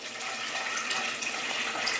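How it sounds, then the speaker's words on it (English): Water drains rapidly from a Dan Mar portable dip tank, a steady, close rushing and gurgling flow that continues without a break, with no voices. "you hear that draining?"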